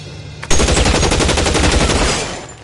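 Loud, close machine-gun fire in the video game L.A. Noire on PS4: one sustained rapid burst of rattling shots lasting about a second and a half, then trailing off into echo, with no voices.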